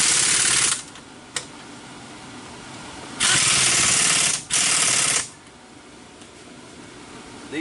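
An impact gun rattles on the 15mm caliper bracket bolts of a 2008 Chevy Impala, in loud hammering bursts: one short blast, a pause, then two longer runs close together.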